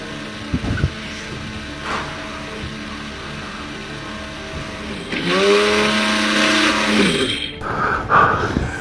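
A kitchen blender starts up at home partway through, a loud whirring motor that holds for a couple of seconds, then cuts out and briefly restarts over quiet room noise.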